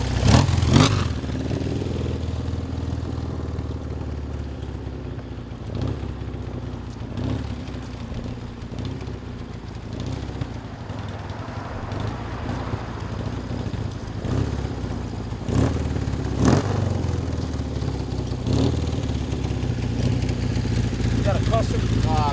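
A 1976 BMW R60/6 motorcycle engine with a custom 2-into-1 exhaust idles and revs up nearby, exhaust rumbling with a few sharp throttle bursts, while someone talks over it.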